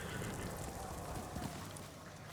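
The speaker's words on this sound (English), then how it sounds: "We'll get on our horse." Horse hooves clip-clopping in the video game Ghost of Tsushima, a quick steady run of soft hoofbeats over a busy game ambience, with no talk.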